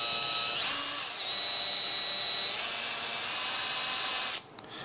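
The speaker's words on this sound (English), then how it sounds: "we're just going to drill about right there" A power drill bores into the latch of a 2024 Harley-Davidson Road Glide, a steady high-pitched whine held for about four seconds close by before it stops abruptly.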